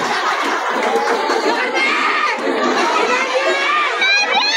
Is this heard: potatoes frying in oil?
no